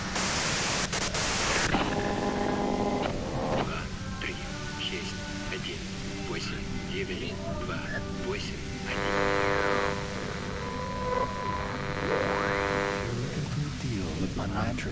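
White-noise static from the video game Disco Elysium: a loud hiss for the first couple of seconds, then layered tonal game sounds and music that continue steadily to the end.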